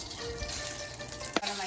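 Marinated pork sizzles in oil in a pan, a loud, continuous crackling fry with a brief clatter of stirring near the end.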